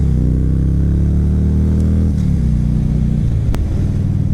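A 2010 Harley-Davidson Road King motorcycle is ridden with a loud, deep, steady engine rumble, the pitch shifting slightly as the rider eases through gears, with wind noise, close up.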